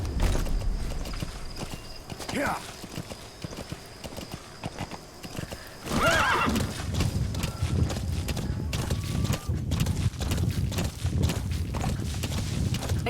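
Horse hooves clip-clopping in Metal Gear Solid V, a steady rhythmic trot of hoofbeats with a whinny and some game ambience, plus a brief spoken word.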